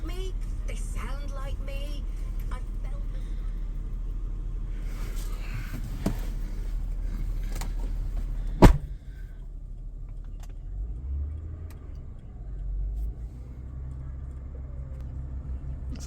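A Honda Accord V6 coupe engine rumbles at idle and is revved while stationary, with a sharp clunk midway before it settles back to a steady low idle, close up and without talking.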